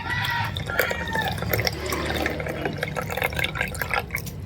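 Water is poured into a cooking pot along with rice, a close, steady splashing and trickling that runs the whole time, with some faint kitchen clatter.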